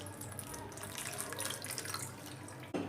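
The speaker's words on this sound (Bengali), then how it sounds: "একটা বাটির মধ্যে আমটা দিয়ে এর মধ্যে জল ঢেলে দেবো যাতে ঠান্ডা হয়ে যায়" Water runs from a tap into a bowl holding roasted raw mango, a steady close splashing stream that cuts off abruptly just before the end.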